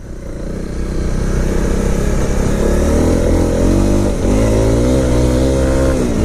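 A 2018 Honda CRF250L dual-sport motorcycle engine droning steadily while riding, loud and close, its pitch rising as the throttle opens and then holding, with wind noise over it.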